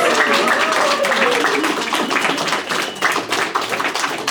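Wedding guests clap after the newlyweds' kiss: a burst of close, brisk hand-clapping runs throughout with some voices mixed in.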